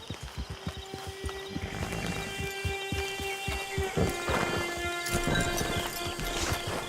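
A horse's hooves clip-clop steadily at a walk in Red Dead Redemption 2 Online, with rhythmic close footfalls over an outdoor ambience and a faint held tone.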